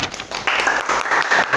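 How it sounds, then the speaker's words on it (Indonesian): A classroom of students gives a short burst of clapping for a student group that has just presented, a quick, close, fairly loud patter of hands that swells after a brief start. "Tepuk tangan dulu."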